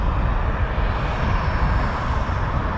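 Multi-engine RAF training aircraft in flight, a steady, loud engine drone filling the whole stretch without voices.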